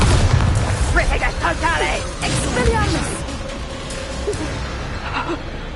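Bombarda spell blasts from Hogwarts Legacy combat, a loud booming explosion with crackling debris over dense battle noise and music, with a character's voice layered over the fight.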